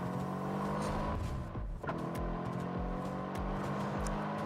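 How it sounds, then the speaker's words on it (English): Deep V8-like engine rumble from a 2022 Ford F-150 Lightning electric pickup, a steady low throbbing growl with slight rev fluctuations, moderately loud and continuous across a short stretch, with no talking. "So y'all hear that mean V8 there, or whatever that is?"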